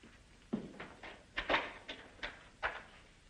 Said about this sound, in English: open that closet door.